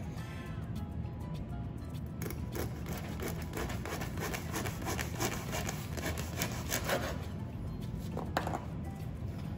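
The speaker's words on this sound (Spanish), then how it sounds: "Ahora vamos a cortar el pan." A knife slices crosswise through a loaf of bread with a soft, rasping sawing sound, quiet and close, in repeated strokes that run throughout.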